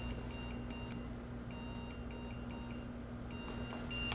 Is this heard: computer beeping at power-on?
yes